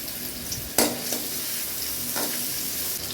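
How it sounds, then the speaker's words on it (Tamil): Chopped garlic, ginger and green chili sizzle steadily in hot oil, close and continuous, with occasional scrapes of stirring over the frying. "எண்ணெய் காஞ்சோன்னே பூண்டு, பொடியாக நறுக்கின பூண்டு, இஞ்சி, பச்சை மிளகாய் நல்லா வணக்கிக்கலாம்."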